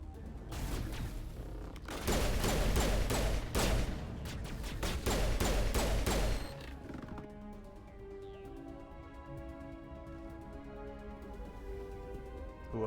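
Gunfire in Mass Effect bursts out as dense, rapid volleys for several seconds, then cuts off and leaves a quieter stretch of sustained electronic tones and ambience.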